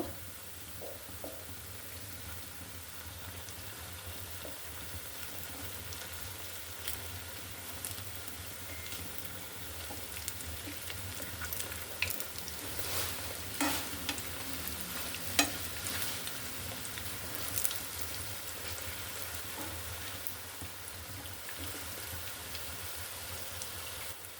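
Meat pitha cakes fry in a pan with a steady low sizzle and occasional stirring and scraping clicks as they are turned, no voices, at moderate volume throughout.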